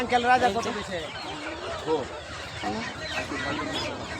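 Native chickens at a village market cluck and squawk close by among several people talking, the bird calls rising and falling in short bursts.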